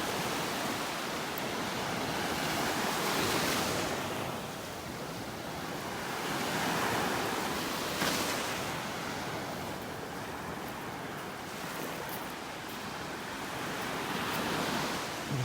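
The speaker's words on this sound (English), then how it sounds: "A few little waves out here this morning as compared to the other day." Small ocean waves wash onto a beach in North Naples, Florida, one morning, a steady broadband surf that swells and fades in slow surges, with some wind noise and no talking.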